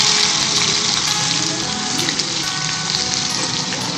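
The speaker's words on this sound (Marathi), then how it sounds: "तर मग आपण हे वाटलेलं वाटण टाकूया" Ground masala paste for dhaba-style masala eggplant sizzling loudly in a hot pan, a steady close crackling fry that holds continuously throughout with no talking.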